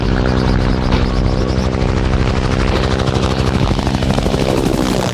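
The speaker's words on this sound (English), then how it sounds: "The Cobra is an amazing helicopter." A model Bell AH-1 HueyCobra attack helicopter flies close by, its rotor and engine producing a loud, steady buzzing drone with a pulsing beat throughout.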